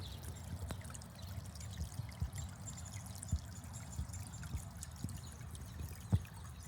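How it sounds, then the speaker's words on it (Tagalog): A mini pond waterfall trickles and pours steadily over rocks, with a continuous close, soft water rush and a few small splashy drips throughout. "Yan ang ating mini waterfall."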